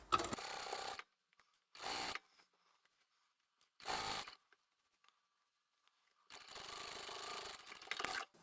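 A sewing machine stitches a tapering seam through blouse fabric in short close bursts, a quick buzzing run, two brief spurts, then a longer steady stretch, with near silence between.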